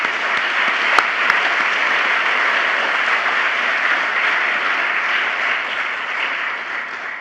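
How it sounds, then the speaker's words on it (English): Youth participants and audience at a national youth forum give a sustained round of applause, an even, dense roar of clapping lasting over seven seconds. "Please give yourselves another round of applause."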